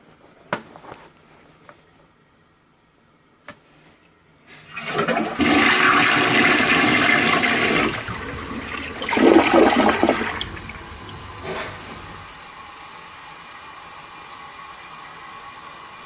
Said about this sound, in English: It's gonna leak when I flush it.